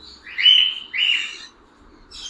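Caged cockatiels and lovebirds let out two clear, close chirping calls in quick succession, then a faint third call begins over near silence.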